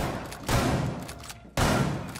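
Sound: gunfire in the video game Rainbow Six Siege

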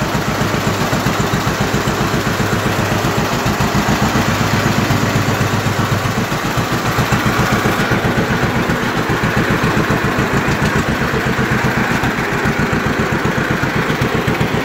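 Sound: antique John Deere tractor engine as clutch engages

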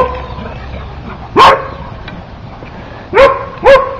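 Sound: dog barking at other dogs walking by

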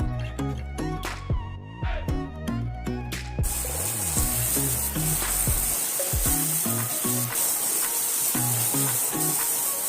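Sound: banana cubes sautéing in ghee on medium flame

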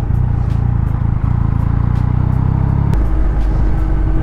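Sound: car driving past, probably an Audi A3 or S3

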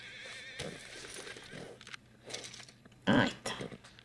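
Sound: horse neighing and hooves, from video game Red Dead Redemption 2

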